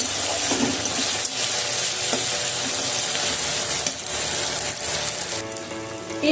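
Masala spices roasting in a pan on a low flame, a steady close sizzle and crackle with faint stirring scrapes, no voices.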